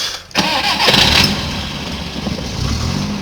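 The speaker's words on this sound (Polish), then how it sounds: "Drodzy Państwo, przekręcamy stacyjkę." An FSO 125p car engine is started with the ignition key: a brief cranking burst, then the engine catches and settles into a steady, close idle, with no speech.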